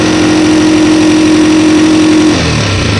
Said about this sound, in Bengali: যেহেতু বাইকটা স্টার্ট হয়েছে আমি একটু পিক আপ দিই।